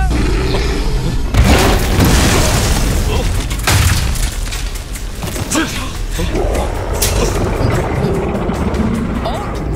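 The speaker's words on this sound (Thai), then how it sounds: "ปืนในตำนานที่ระเบิดหินภูเขา" A loud booming blast from a legendary cannon in a Chinese fantasy martial-arts film, with a heavy rumbling aftermath, followed by continuous dense roaring noise and scattered thuds.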